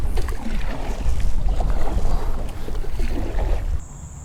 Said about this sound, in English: this wind is really blowing